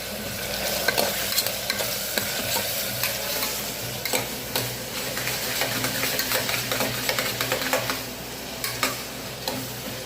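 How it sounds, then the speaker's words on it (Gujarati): Tomatoes sautéing in a pan for pav bhaji give a continuous close sizzle and crackle, dotted with frequent small spatters and stirring ticks throughout, with a low steady hum beneath and no talking. "પછી ટમેટાની કચાશ કાઢવા આપણે એને સાતળશું"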